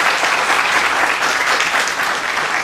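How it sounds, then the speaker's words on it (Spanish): Seminar audience applauding a speaker's contribution at a university medical services event, steady, dense, fairly loud clapping throughout with no speech. "Les voy a pedir, por favor, amablemente, que les brindemos un voto de aplauso por su aporte"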